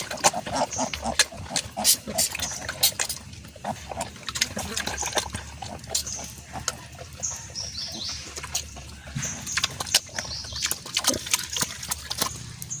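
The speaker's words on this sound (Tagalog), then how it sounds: "Pinapakain ko na pala ngayon ng baboy" A thirsty pig grunts while slurping and chewing kangkong and tahok, making wet lapping and crunching noises. Birds chirp faintly in the background.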